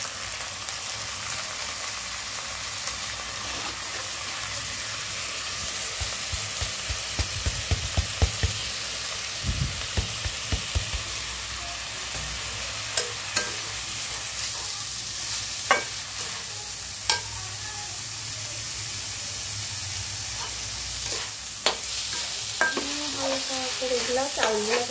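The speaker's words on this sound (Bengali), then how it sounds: "এগুলো চাউলগুলো একটু ভেজে নিব, একটু হালকা ফ্রাই করে নিব, যাতে একদম ঝুরঝুরে হয়" Washed rice being lightly fried in a pan for pulao, a steady broadband sizzle with scattered stirring scrapes and clinks, close and continuous with no talking.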